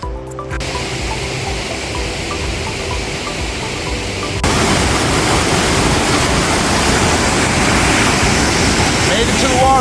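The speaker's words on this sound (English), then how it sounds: "Made it to the waterfall." Millie Batch Falls, a Swiss mountain waterfall, gushing in a steady, loud, broadband roar that swells louder partway through as it comes nearer, with no other sound standing out.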